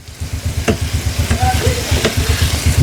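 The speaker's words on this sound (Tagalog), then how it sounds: "So, ayan, gisa-gisa lang tayo" Sardines with pepper sauté in a pan, a loud close sizzle with a regular pulsing rhythm as the mixture is tossed, punctuated by a few sharp scrapes of the spatula.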